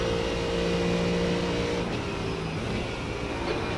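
Race car engine in iRacing during the Spa 12 Hour endurance race, a loud sustained drone with shifting pitch as another car runs alongside and passes.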